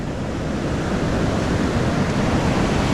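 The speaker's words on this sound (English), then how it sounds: "A lot of dirty looking waves today." Ocean surf rolls in at Santa Monica beach, a loud, steady roar of breaking waves with wind buffeting the microphone, close and continuous with no talk.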